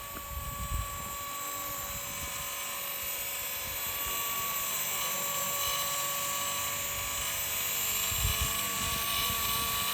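A Blade 230s RC helicopter hovers close by with a steady high-pitched rotor and motor whine that runs without a break, plus low buffeting thumps from the blades and wind against the microphone.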